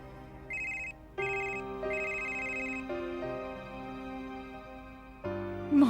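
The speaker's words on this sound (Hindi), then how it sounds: "मॉम का फोन।" A phone's melodic ringtone plays a short repeating pattern of bright electronic tones, fairly loud and close, in an indoor drama scene. The ringing swells near the end.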